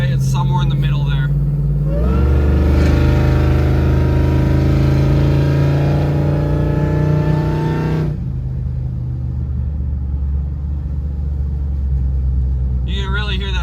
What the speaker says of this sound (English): You can really hear that Hellcat supercharger whine.